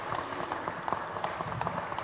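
A modest round of audience applause at an art catalogue presentation, soft and somewhat distant, with scattered individual claps and faint murmuring underneath.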